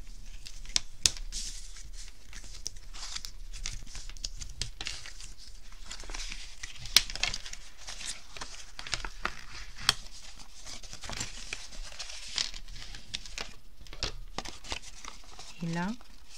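A bone folder creasing paper folds on an advent calendar craft, dry scraping and crinkling strokes in irregular bursts, close and fairly quiet, with a person talking over much of it.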